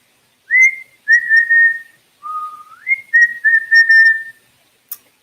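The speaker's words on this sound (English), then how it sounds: "now I'm doing a sound, and I chose a whistle" A person whistling a clear, loud melodic phrase of several sustained and gliding notes, solo and close, followed by a brief click at the end.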